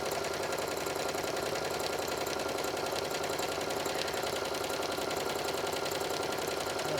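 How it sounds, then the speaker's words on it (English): A sewing machine stitches steadily through fusible fleece on a pillow seam, giving a continuous, even mechanical whirr at moderate level for the whole stretch, with no talking over it. "the fusible fleece is very easy to sew through, so just kind of stitch through."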